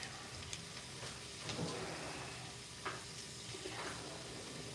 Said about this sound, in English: Stir the bacon.